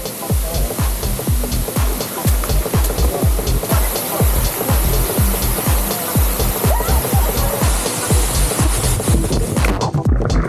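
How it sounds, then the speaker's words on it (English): Steady, loud rush of falling water fills the whole stretch, with rhythmic surging pulses, close and continuous throughout. "You can legit walk up the waterfalls."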